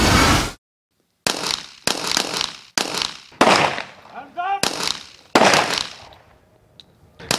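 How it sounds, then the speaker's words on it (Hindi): Gunfire erupts between police and robbers at a farmhouse: a string of loud, close shots and cracking bursts, several in quick succession, with short gaps and faint shouting between them. "पुलिस ने भी डकैतों पर जवाबी फायरिंग की"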